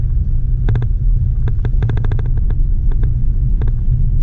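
A vehicle drives along a hard-packed sand road on Hunters Road in Botswana during the dry season. A loud, steady low engine and road rumble runs throughout, with bursts of rapid ticking and rattling over it and no talk.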